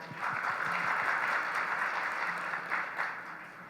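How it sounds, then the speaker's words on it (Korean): A conference audience at a maritime and shipping event claps for a speaker. The applause is steady and full, then thins gradually toward the end, with no talk over it. "여러분 다시 한 번 더 큰 박수 부탁드리겠습니다"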